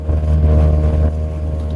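Outboard motor on an inflatable boat running at full throttle on a Scottish sea loch, a steady loud droning hum with constant low harmonics and wind buffeting the microphone throughout.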